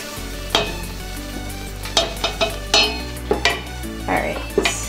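Marshmallows melting in a pot for rice krispie treats while a utensil stirs and scrapes, giving soft sizzling over a low hum with several clinks and scrapes against the pot, no talking.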